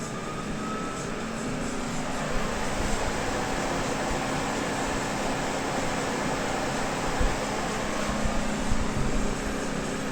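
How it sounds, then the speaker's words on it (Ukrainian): The heat pump of a Renault Zoe electric car runs with a steady fan-like whirr and hum, constant and moderately loud with slight swells, and no talking. "Зараз пішов тепловий насос."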